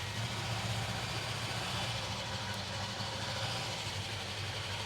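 An old barn-find car's engine runs steadily in first gear, a continuous close rumble with broad noise and no pauses.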